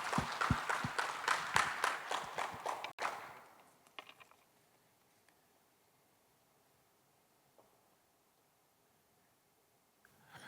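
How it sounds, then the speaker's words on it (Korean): Audience applause greets a professor walking onto the stage at a 2021 Korean social innovation fair. Clapping runs for about three seconds, then breaks off into near silence with faint rustles. "여러분 큰 박수로 격려해 주시기 바랍니다"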